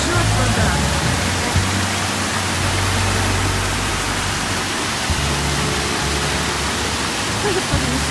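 Floodwater after heavy rain in Yuzhno-Sakhalinsk, rushing and pouring over steps: a loud, continuous broadband roar of water filling the whole clip, with faint voices beneath it.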